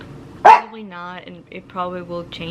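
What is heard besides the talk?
dogs barking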